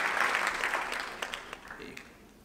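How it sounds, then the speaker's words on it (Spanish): Audience applause at an engineering conference welcomes the next speaker, a dense round of clapping that is loudest at the start and gradually thins and fades over a couple of seconds. "Fuerte el aplauso para él."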